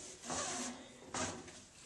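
A cloth wipes friction polish onto a freshly sanded, lathe-turned wooden Christmas ornament, making two soft, brief rubbing swishes that sound close but faint.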